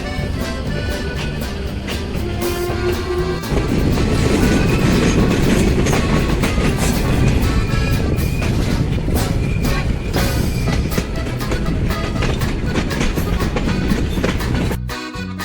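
The Chilahati Express runs past loud and near on its rails, a dense roar with steady clickety-clack from the wheels that holds for the whole stretch and eases right at the end.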